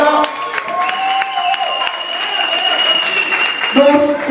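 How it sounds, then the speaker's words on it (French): Audience applause for M. Chapuis at a farewell celebration, a steady broad wash of clapping with cheering voices and tonal whistles or music running through it, loud and sustained throughout. "on va applaudir, s'il vous plaît, M. Chapuis."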